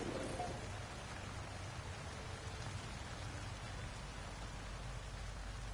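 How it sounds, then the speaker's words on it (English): Steady rain falls on a toxic planet in the video game No Man's Sky, a dense continuous hiss of drops on surfaces and water, even and unbroken throughout with no talk. "It's raining."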